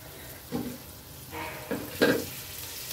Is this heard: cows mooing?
no